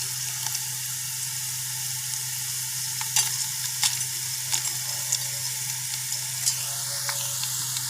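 Onions and whole spices frying in a pot for a Peshawari pulao, a steady soft sizzle with a low hum underneath and occasional faint clinks and crackles, with no talking.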